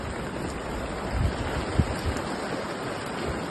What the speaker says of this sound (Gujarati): અહીંથી હજી બતાવું નજીકથી કેવું પાણી આવે ને ક્યાંથી આવે